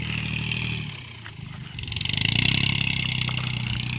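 A combine harvester's engine runs steadily in a rice field, a loud close mechanical drone with a clattering edge that dips briefly and then swells louder as it revs, with no talk.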